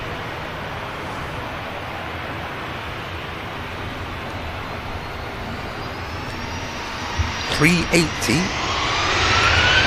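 Ryanair jet departing Manchester Airport, a broad distant engine roar spread steadily across the clip and swelling louder near the end, with a voice speaking briefly over it partway through.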